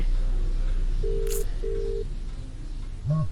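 A mobile phone placing a call, with two steady outgoing ringback tones in a row, close and clear over a low background hum, ending in a brief voiced sound.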